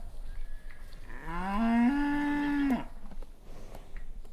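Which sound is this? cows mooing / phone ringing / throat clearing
cows mooing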